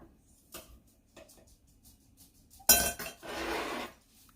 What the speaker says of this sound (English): And as Pam is chopping the cherries up